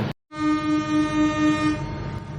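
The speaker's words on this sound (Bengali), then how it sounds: "হুইসেল বেজে উঠল 66 সিরিজের।" The Jahanabad Express, a passenger train in Bangladesh, sounds a long, loud, steady horn close by at night, pulsing slightly as it holds, over a low rumble of the train.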